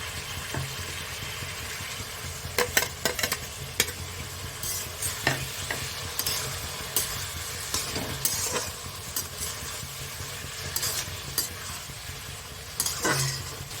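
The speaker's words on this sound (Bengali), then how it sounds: "ঝিঙেটা আমার একটু ভাজা হয়ে গেছে" Ridge gourd and crispy mushrooms frying in a pan give a steady low sizzle, with sharp clinks and scrapes of a spatula stirring at irregular intervals, close and alone.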